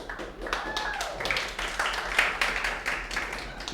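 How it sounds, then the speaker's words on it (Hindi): Students clapping in a law lecture classroom, a few seconds of scattered, uneven applause with mixed voices underneath. "फालतू में ताली बजा रहे"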